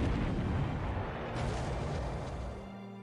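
Naval gunfire from lead ships in a Pacific War game: a dense, rumbling blast of artillery sustained for about two seconds before tapering off, loud and broad.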